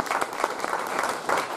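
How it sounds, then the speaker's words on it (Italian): A short burst of dense audience clapping at an awards ceremony for Puglia wine and music excellence, steady and fairly close, with no talking over it. "salutiamo con un applauso."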